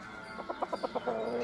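A fighting rooster near at hand gives a quick run of about six soft rhythmic clucks, then a brief drawn-out note.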